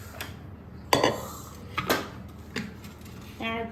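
Metal cookware clanks and knocks as a pressure cooker is handled in a home kitchen while making sev usal, with several sharp clinks and a lid-like rattle near the end, close and moderately loud.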